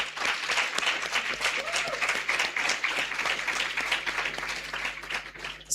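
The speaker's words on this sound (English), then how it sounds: "we want to give them a round of applause for that" Audience applauding students' artwork at a JamCoders summer camp graduation ceremony; sustained, dense clapping from a sizable crowd, steady and fairly close throughout.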